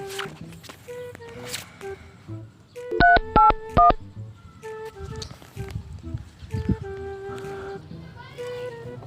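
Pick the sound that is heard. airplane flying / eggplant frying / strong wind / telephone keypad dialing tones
telephone keypad dialing tones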